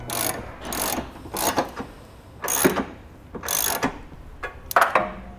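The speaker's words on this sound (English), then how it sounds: "We'll go ahead and tighten down our hardware using an 11/16 socket." An 11/16 socket on a ratchet tightens the bolts of a Draw-Tite Sportframe trailer hitch on a 2013 Subaru, with repeated bursts of close, sharp clicking strokes separated by brief pauses.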